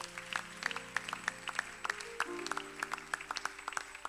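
A church congregation claps in a quick, even rhythm over sustained musical tones, the applause fairly soft and somewhat distant.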